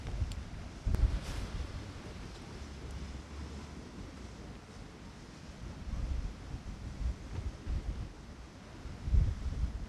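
Strong Storm Ciarán wind gusting across the Essex coast, a steady roaring rumble with low buffeting surges and mic wind noise, swelling and easing through the whole stretch, with surf in the background and no talk.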